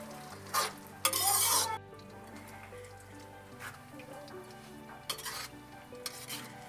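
Dry fruits being fried in a pan for laddu, with a steady sizzle throughout, a spoon stirring and scraping against the pan, and a few louder clattering bursts.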